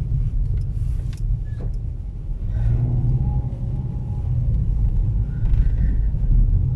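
A car bumps over tram rails on a rough, potholed city street, heard from inside the cabin as a loud, continuous low rumble with jolts and shudders and no talking.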